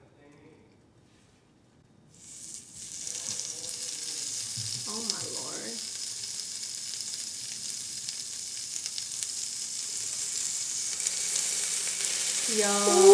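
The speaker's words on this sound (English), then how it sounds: "Ready for the sizzle?" Boneless short ribs sizzle on a Korean BBQ grill: a loud, steady frying hiss that starts abruptly and holds throughout, with people exclaiming over it near the start and end.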